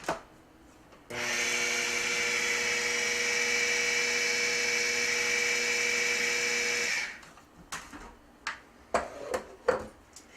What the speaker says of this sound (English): So I'm going to blend the eggs in.